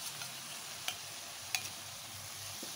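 Chilli sauce stirred into soya chilli in a hot pan, a steady sizzle broken by a few light spoon clinks, no talking.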